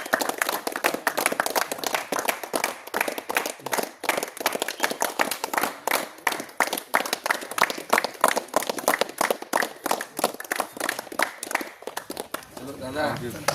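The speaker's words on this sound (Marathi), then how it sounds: "सर्व टीमचे एक टाळ्या वाजवून सर्वही स्वागत करा." A crowd applauds to welcome the Maharashtra kabaddi team at a training-camp event, steady dense clapping lasting over ten seconds, loud and close, with voices mixed underneath.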